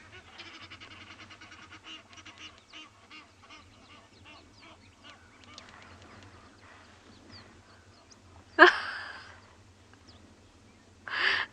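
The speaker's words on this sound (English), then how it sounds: "can hear the Egyptian geese." Egyptian geese call at Chitwa on a quiet early morning safari, with two sharp, loud honking bursts late on over soft background chatter and faint bird calls.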